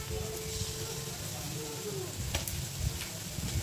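Chicken pieces land in a pan of browned fried onions for an Afghani Kabuli pulao, giving a low steady sizzle with a few clicks and stirring knocks.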